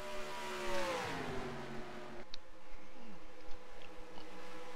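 A race car accelerates hard to win back a position, engine note rising and sweeping in pitch, then cutting sharply to a lower, steadier drone with faint passing whines.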